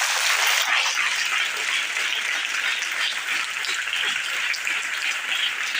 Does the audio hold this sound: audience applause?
yes